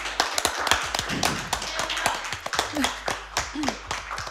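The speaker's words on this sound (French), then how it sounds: "on peut applaudir ça" A few people clapping in a podcast studio, a loose run of close, sharp hand claps with uneven rhythm, with a bit of voice mixed in.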